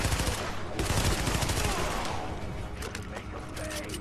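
Enemies open fire in The Division, a loud close burst of rapid automatic gunfire that thins into scattered shots and mechanical clatter, with someone talking over the shooting.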